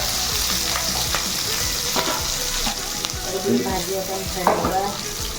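Cumin, mustard seeds, garlic and green chili fry in a hot pan with a steady close sizzle, broken by scraping stirs of a spoon and a few sharper pops.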